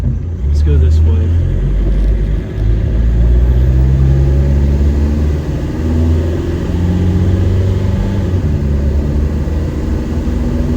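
A car with a swapped TDI diesel engine and added resonator idles around 900 rpm, a steady low rumble throughout with slight dips, while people talk over it inside the cabin.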